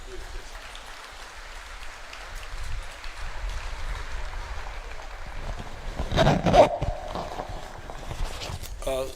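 A crowd of young people at a youth entrepreneurs' conference at Kololo rises and claps for Uganda's President Museveni. The steady, moderately loud applause swells near the end, with a murmur of crowd noise and shuffling underneath.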